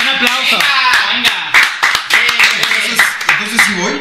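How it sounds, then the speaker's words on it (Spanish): A few people clapping in uneven bursts to welcome a brother, close and loud, mixed with excited voices and shouts over the claps. "Un aplauso."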